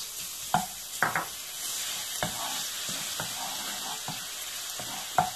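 Grated garlic fries in oil in a pan, a continuous close sizzle punctuated by several sharp scrapes and taps of a utensil stirring against the pan.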